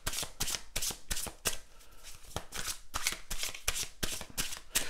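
Tarot cards are shuffled close up in quick riffling bursts, a rapid run of crisp papery flicks and slaps repeated about a dozen times, with no voices.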